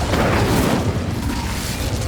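A fire spell blast in the video game Hogwarts Legacy: a loud, dense booming burst that fills the whole clip with a roaring, crackling rumble.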